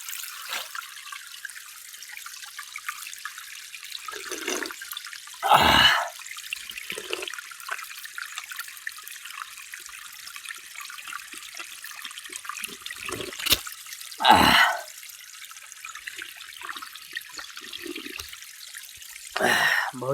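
Drinking water flowing from a freshly laid pipe on a hillside trail near Dharan, a steady trickling stream with a few louder gushing bursts, close by and alone.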